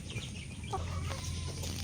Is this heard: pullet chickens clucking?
yes